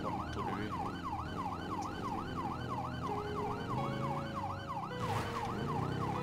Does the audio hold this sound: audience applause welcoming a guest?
no